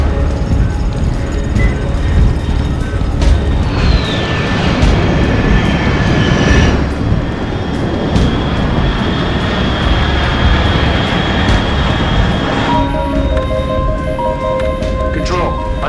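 An aircraft flies overhead in the video game Metal Gear Solid Delta: Snake Eater, a loud, sustained engine roar and rush that holds steady throughout and shifts in tone near the end.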